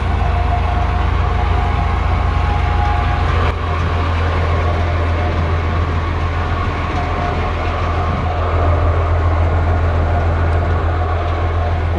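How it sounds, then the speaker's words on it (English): A heritage tourist train at Goldfield Ghost Town, Arizona, rumbles steadily and loudly throughout, a continuous low roar of wheels and engine with faint rattling. "Been on this train before."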